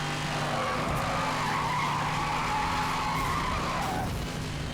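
A car slides and skids with tire squeal from oversteer in the racing video game Need for Speed Hot Pursuit Remastered, a loud, steady screech over engine drone lasting several seconds.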